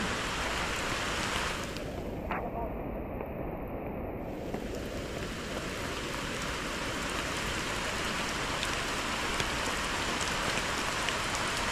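Heavy rain pours down in a steady, loud, unbroken hiss that fills the whole stretch, with no voices over it.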